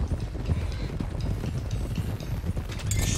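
Horses gallop in Red Dead Redemption 2 on PS4, a steady, rapid clatter of hoofbeats running continuously at moderate volume with no talk.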